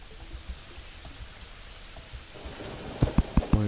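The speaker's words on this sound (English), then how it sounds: "Oh, it's raining." Steady rain falls in the Terraria video game, modded with tModLoader, as an even wash of hiss with no voices. A few short bouncy thumps land near the end.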